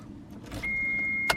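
A Mitsubishi Galant VR4 car's engine starts with a brief crank, then settles into a steady idle with a sustained tone, ending with a sharp click.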